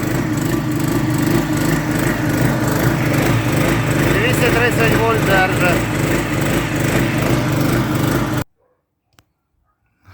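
ERGO EGS2800 portable petrol generator running under a 2 kW load, a loud, steady engine drone lasting about eight seconds before it cuts off abruptly into near silence.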